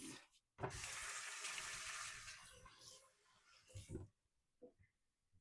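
A tap runs for about three seconds while hands are washed, a soft steady gush of water in a quiet kitchen. It stops abruptly, and a few small clatters follow.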